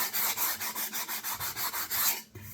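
Sandpaper rubs back and forth on the corner of a wooden desktop organizer in about a dozen even, rhythmic rasping strokes, close and loud, ending with a brief knock.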